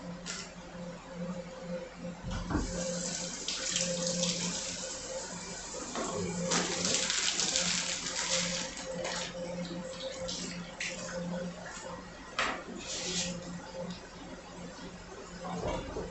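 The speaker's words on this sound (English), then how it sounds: "We're gonna go ahead and rinse our carrots and celery off." Carrots and celery are rinsed under a running kitchen tap, a continuous splashing water stream with uneven surges and occasional clunks, fairly close and moderately loud.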